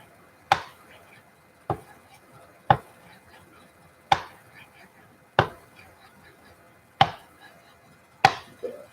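A kitchen knife rocked across a cutting board chopping mushrooms and garlic, sharp single chops about one per second, close and crisp, with faint background murmur between strokes.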